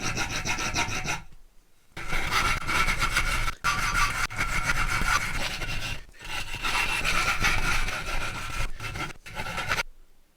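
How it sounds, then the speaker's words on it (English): Hand file rasping across the damaged end threads of a bolt, loud close strokes in a steady back-and-forth rhythm with a few brief pauses between sets. "I've had to file all of them because all of the end thread here is just slightly damaged."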